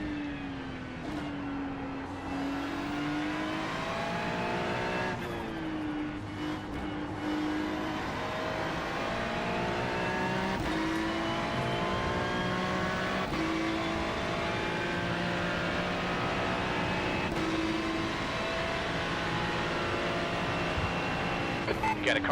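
Race cars on the Nürburgring Grand-Prix-Strecke in a GTP/GT3 multiclass racing video game, engines droning and shifting pitch continuously as they accelerate and pass, while a voice talks over the radio throughout.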